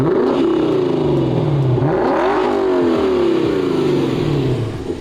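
A Mercedes W211 E55 AMG V8 revs loudly and close, rising and falling several times in sustained deep bursts with no talk over it.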